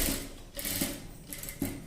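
A sewing machine stitches fabric for a large-size blouse, running in steady mechanical bursts with brief pauses between runs, fairly close and alone without talk.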